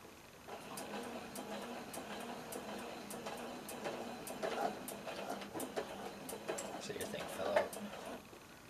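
A sewing machine stitches slowly through thick layers of blue jean denim, its mechanism ticking and clacking in a steady, unhurried rhythm at close range, with low hum underneath and a slightly louder clunk near the end.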